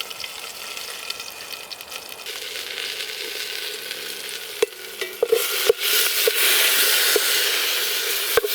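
Beef browns in a pot over a campfire outdoors, giving a continuous loud sizzle and hiss with scattered sharp crackles and pops, with no voices.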